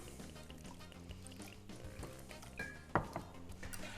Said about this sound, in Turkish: Yarım litre suyum var. Hemen onu da ekleyelim.